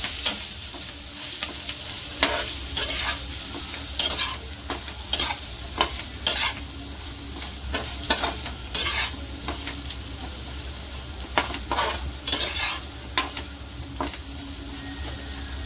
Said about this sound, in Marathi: गॅस बारीक करायचा आहे आणि चांगला हलवून घ्यायचा.